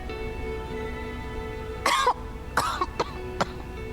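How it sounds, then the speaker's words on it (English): A woman coughing in the video game Lost Eidolons: a harsh, rasping fit followed by several shorter coughs, close and clear over a quiet musical background. "covers her mouth, going into a coughing fit"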